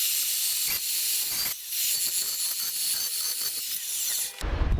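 Sheet metal is cut for an anvil stand with a continuous harsh, hissing grind up close, broken by a brief dip in the middle, then ending abruptly with a low thump.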